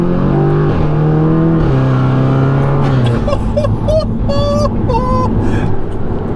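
A 400 BHP Audi S3 accelerates hard, its loud engine note rising quickly through the revs from inside the car. Voices come in near the end over the engine.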